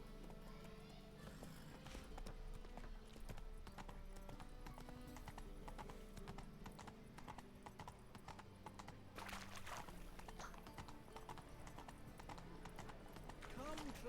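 Roach the horse trots in The Witcher 3, steady clip-clop hoofbeats with an occasional whinny, mixed with a game music bed and a voice talking over it.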